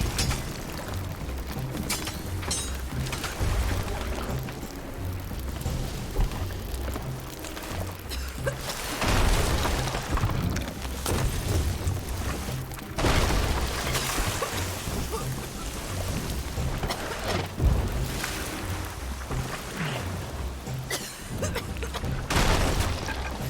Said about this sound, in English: I returned to the sound of fires roaring and cannons flaring